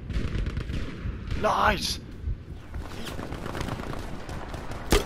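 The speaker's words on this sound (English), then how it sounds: "Shooting already on their hill." Gunfire in Battlefield V Firestorm, a sharp, dense crackle of shots on a hill, with a loud crack near the end, under excited voices.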